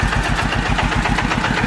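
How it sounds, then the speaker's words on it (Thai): A homemade Thai farm vehicle (E-taen) runs on a 120 DI diesel engine, chugging in a loud, close, steady rapid rhythm without any voices. "อันนี้เครื่องจับรังนะ"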